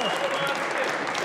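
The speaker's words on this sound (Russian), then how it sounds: "Давайте поаплодируем ему." An audience applauds a winner's early victory at a competition, a brief, dense burst of steady clapping with voices mixed in.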